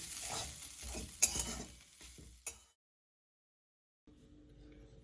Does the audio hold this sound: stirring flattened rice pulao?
yes